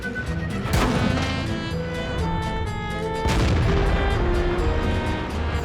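Warship main guns firing in a naval battle game aboard the Peloponnesiaco, two heavy booming salvos about two and a half seconds apart over a constant layered rumble of engine and combat noise.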